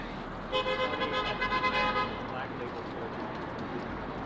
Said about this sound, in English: Why are so many people honking?